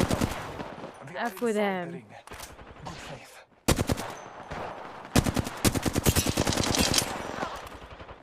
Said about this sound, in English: I'm just shooting people here